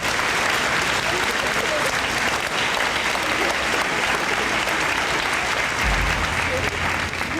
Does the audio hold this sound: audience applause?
yes